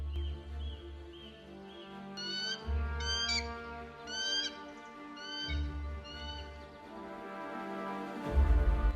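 An African fish eagle gives several loud, ringing, yelping calls in a short series near the middle of the clip, heard over a low, rumbling background of a riverside wild setting.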